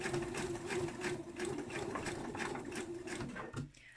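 A sewing machine stitching a hairband seam makes a steady, rapid mechanical whir with a rhythmic needle patter that slows and stops near the end.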